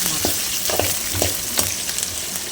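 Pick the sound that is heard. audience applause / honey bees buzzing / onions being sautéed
onions being sautéed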